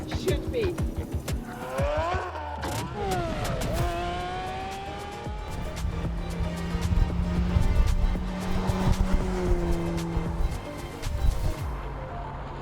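A 2011 BMW 1 Series M Coupe lapping a race track, its engine rising and falling through gear changes with tire noise, loud and close throughout, with a voice talking over it.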